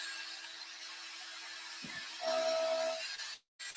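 A CNC router cuts dovetail pins into the back side of a wooden board with a steady, close, high whining drone. A brighter tone joins partway through before the sound cuts off abruptly near the end.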